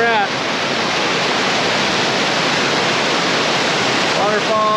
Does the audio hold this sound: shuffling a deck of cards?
no